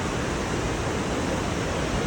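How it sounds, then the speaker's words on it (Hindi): The Saraswati river rushes near Badrinath in the Himalayas, a loud, dense, unbroken roar of turbulent mountain water filling the whole stretch without any voices. "कलकल निनाद करती हुई माँ सरस्वती नदी का गम स्थल है।"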